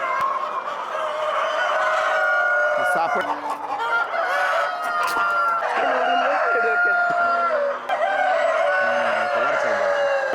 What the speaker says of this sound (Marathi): काय सुपर कोंबडा आहे